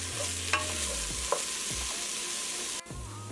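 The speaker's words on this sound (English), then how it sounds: "We're going to let this cook and saute and let it get nice and translucent." Onions and peppers sauteing on medium heat in a pan for a vegan chili, with a steady close sizzle and a few scraping stirs of a utensil, no voices.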